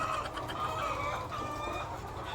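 Chickens clucking continuously in a laying area at an egg-collecting farm, a hen about to lay, with dense overlapping fowl calls close by and no talking.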